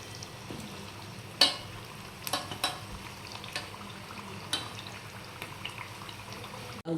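Potato smileys fry in a pan of hot oil, a soft steady bubbling sizzle with a few sharp clinks of a utensil against the pan, fairly quiet and close.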